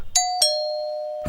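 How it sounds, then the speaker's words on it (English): Doorbell ringing in a domestic violence awareness campaign, two clear ding-dong chimes close together, the second tone ringing out before a noisy rustle. "Ring the bell."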